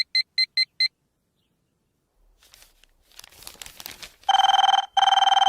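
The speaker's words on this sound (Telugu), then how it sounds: "ఈ ఫోన్ చంపేస్తున్నా" A telephone rings in a comic scene: a quick burst of short electronic beeps, then crinkling noises, then two long loud rings close by, with no talk.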